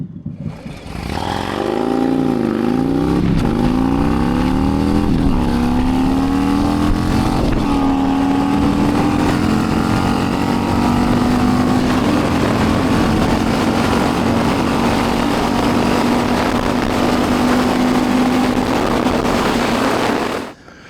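A 2021 Harley-Davidson Road King Special with a 135 crate engine rides on the highway, its loud, deep V-twin exhaust climbing through gear changes and then holding a steady, continuous drone for almost twenty seconds with wind rush.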